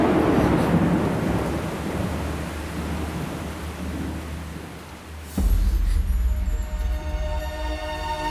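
Heavy rain pours down in a steady, dense roar, then a sharp crack of thunder breaks in midway, and a louder, rumbling downpour continues after it.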